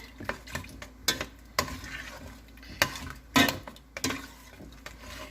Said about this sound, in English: Alright, we'll stir that in there.